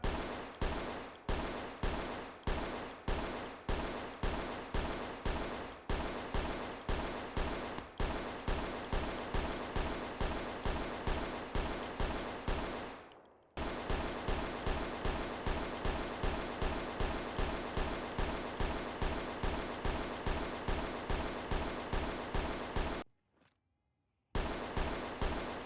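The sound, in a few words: unsilenced gunfire in the video game Project Zomboid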